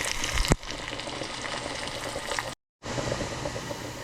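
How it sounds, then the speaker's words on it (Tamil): Onions sauté in a pan, a steady soft sizzle with light stirring, broken by a sharp knock near the start and a brief total dropout of sound near the end. "இனி நல்லா வதக்கி எடுப்போம்"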